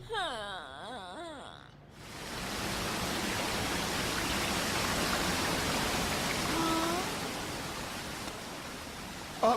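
Cartoon waterfall rushing as a broad, steady hiss of falling water that swells in after a short passage of wavering whistled tones, loud and continuous to the end.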